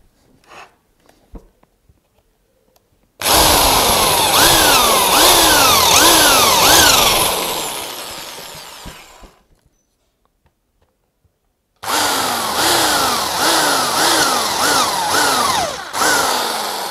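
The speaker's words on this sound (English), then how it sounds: "now we just have to quickly drill 4 holes and our U-bolt mounts are done" Power drill boring holes for U-bolt camera door mounts, two loud close bursts of whining motor with a pitch that rises and falls repeatedly as the bit bites, separated by a few seconds of quiet.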